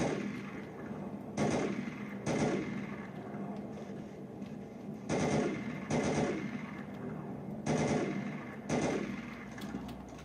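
M4A1 automatic rifle firing in a Half-Life mod video game, with about seven short sharp bursts spaced irregularly, each cracking loudly and then decaying over a steady game background hum.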